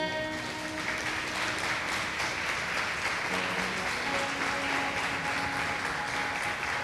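A Catholic congregation at a Holy Spirit seminar applauds after a scripture reading, steady, moderately loud clapping throughout with a few voices and a faint sustained tone beneath.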